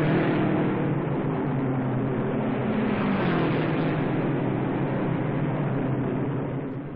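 A supercharged V8 Novi race car at the 1957 Indianapolis 500 roars steadily down the backstretch at speed, a loud continuous engine drone with a slight swell in pitch midway and no talk.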